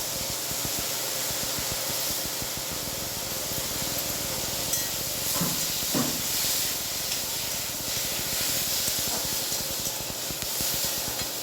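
Tomato frying in hot oil in a pan gives a steady, loud sizzling hiss throughout, with a couple of brief louder crackles near the middle and no voices.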